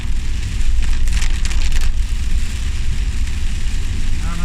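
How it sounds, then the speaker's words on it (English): Heavy rain while driving, a dense steady hiss of rain on the vehicle over a low engine rumble, with brief louder bursts of spray early on. "This rain is horrendous."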